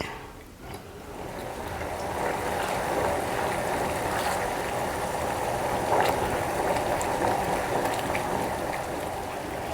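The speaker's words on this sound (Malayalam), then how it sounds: "പഞ്ചസാര പാനീനെ നല്ലപോലെ തിളയ്ക്കണം" Sugar syrup for gulab jamun boils in a pan, a continuous close hiss of dense bubbling and popping that holds steady for the whole stretch with no talk.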